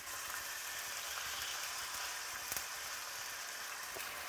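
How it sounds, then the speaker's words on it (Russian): Veal fries in a hot pan over maximum heat, a steady, fairly faint hiss and crackle of sizzling fat lasting throughout, with a brief louder pop partway through and no talking. "И обжариваю с двух сторон до румяной корочки"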